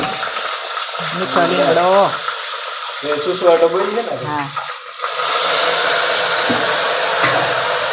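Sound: tempering with asafoetida sizzling in hot oil

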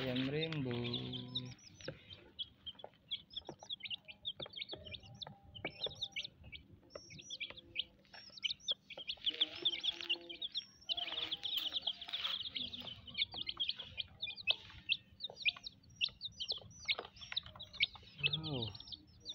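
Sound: rainbow chickens clucking and chirping

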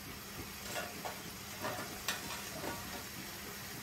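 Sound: frying methi (fenugreek) leaves in a pan

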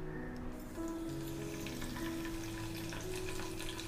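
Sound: curry leaves sizzling in hot oil

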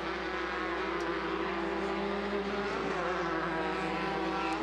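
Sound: Volkswagen-based Limited Buggy off-road racers rounding final corner

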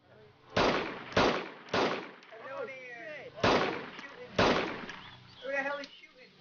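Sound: gunshots in the video game DayZ

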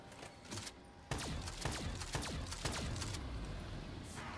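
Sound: rapid gunfire from a gun in a video game

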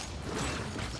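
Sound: weapon reloading in Warzone video game

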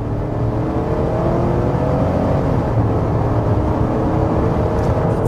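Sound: Chevrolet Tahoe accelerating hard in sport mode

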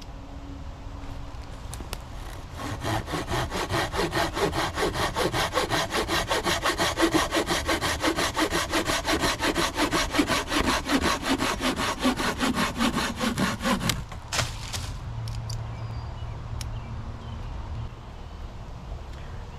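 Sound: Silky Gomboy 240 backpacking saw cutting wood

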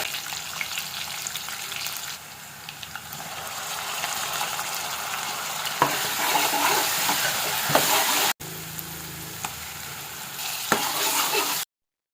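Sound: tempering spices sizzling in oil for chicken curry

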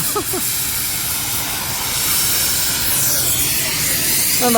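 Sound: gas torch flaming a stone slab

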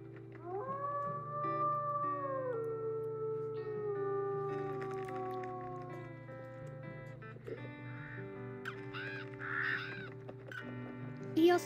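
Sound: wolf howling in video game Luna's Quest

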